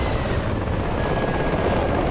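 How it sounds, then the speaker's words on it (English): A massive helicopter in the DCS combat flight simulator drones with a steady, loud rotor thrum and whining turbine tone, continuous and unbroken throughout. "I want to watch this massive helicopter."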